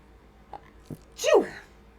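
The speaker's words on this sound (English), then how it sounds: "I have to sneeze" A single close sneeze, preceded by a couple of quick sharp inhales, bursting loudly and then fading to quiet.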